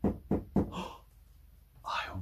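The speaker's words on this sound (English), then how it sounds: "there was a knock at the door" Three quick, hollow knocks land on a door one after another, followed by a soft voice.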